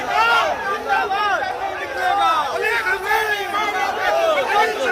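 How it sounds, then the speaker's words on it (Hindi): Crowd of protesters chanting anti-America slogans, loud massed voices rising and falling in a steady rhythmic cadence, close and continuous. "अमेरिका मुर्दाबाद के नारे लग रहे हैं"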